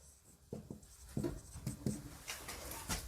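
Chalk or a marker scratching across a classroom board during a Hindi maths lesson, heard as short, irregular scraping strokes at close range with soft taps between them and no talk.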